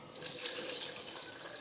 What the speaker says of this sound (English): So I'll add water